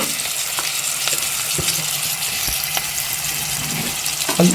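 Ginger paste frying with sliced onion and green chillies in a pan for a country chicken fry, giving a steady close sizzle with a few sharp clicks and crackles, no voices.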